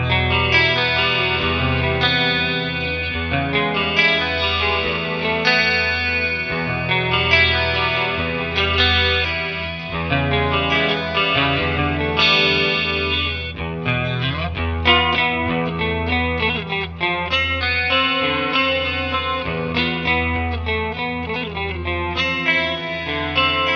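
A Gallien Krueger 250ML amplifier plays continuous, loud, full-range guitar through its stereo echo and chorus effects, giving a thick, shimmering, repeating sound with no talking.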